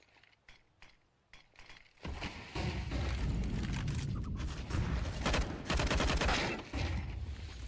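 Gunfire from the video game Counter-Strike 2: a few sparse shots, then loud, continuous bursts of automatic fire and heavy booms that fill the rest of the clip.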